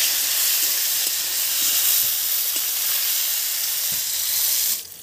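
Cauliflower florets seasoned with turmeric and salt sizzle steadily in a hot pan, a dense continuous frying hiss for a Bengali cauliflower-potato posto dish. The hiss drops away abruptly near the end.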